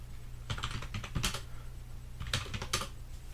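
Keys clatter on a computer keyboard as a password is entered, in two quick bursts of close, soft clicks separated by a short pause, heard over a low steady hum.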